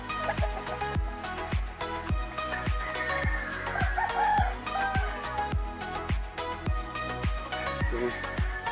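Chickens at a rural farm in Kalimantan cluck and crow over a steady, rhythmic thumping beat of loud music, the bird calls mid-level and partly buried under the repeating pulses.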